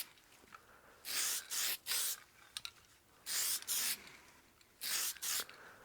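Spray lacquer hissing from an aerosol can onto a dyed wood platter, in three pairs of short, bright bursts with brief pauses between them, close and fairly loud against a quiet room.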